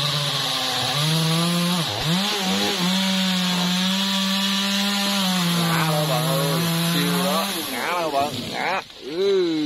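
A G4500 chainsaw cuts through a big branch of a dầu tree near Ba Chúc market. The engine drones loud and steady, its pitch dipping briefly as the chain bites, then bogging down and recovering near the end.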